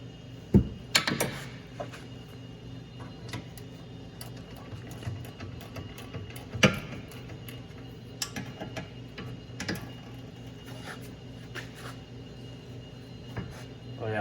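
Ratchet clicking while loosening 14 mm caliper bracket bolts on a 2020 Hyundai Kona Electric, irregular close ticking bursts with a few sharp knocks.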